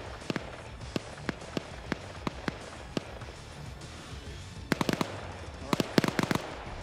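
Weapons fire in a Starship Troopers video game: a regular series of single sharp shots at moderate distance, then faster clustered bursts over a busy background of game noise.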